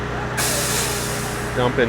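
A concrete truck pulls up at an office building construction site on a hot day, with a loud burst of air-brake hiss over steady diesel idle and rumble, close by, with brief voices near the end.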